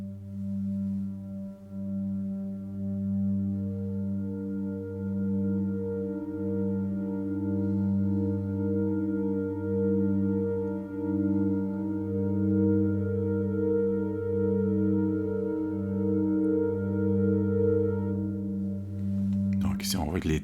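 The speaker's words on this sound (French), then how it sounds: "Je vais en essayer un autre ici, Modular Clean Drones" Modular Clean Drones virtual synthesizer holds a steady, harmonically rich analog-style drone, sustained and even throughout with slight pulsing, ending in a brief noisy burst.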